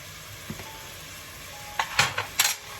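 Euskomagyar beef stew, seasoned with cumin, is stirred in a pot: a faint tap early on, then a quick cluster of three or four scraping strokes near the end over a soft, continuous sizzle. No one speaks.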